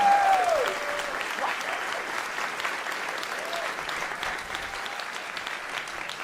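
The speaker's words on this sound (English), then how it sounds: "Can we please get a huge round of applause for all the teams?" A crowd applauds the startup teams at a Founders Inc demo day, broad sustained clapping from many hands that starts loud and settles into a steady wash, with a brief tonal sound at the start.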